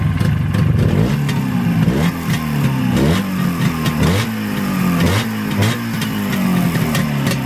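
A carburetted 360 engine runs loud and close, repeatedly revving up and dropping back in a rhythmic cycle, with mechanical clatter and some wind noise outdoors.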